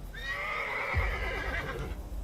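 A horse pulling a tonga cart lets out a loud, drawn-out neigh that slides downward, set over a steady rumbling background in a dramatic sound effect.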